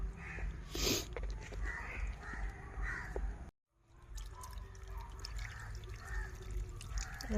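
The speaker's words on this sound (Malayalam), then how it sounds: "ഇങ്ങനെ വെള്ളം ഒഴിച്ചു കൊടുക്കാം." Water poured gently from a container over a potted lotus tuber, giving a soft trickling pour near the start that fades into faint dribbling, with a brief dropout midway and quiet outdoor background with crows.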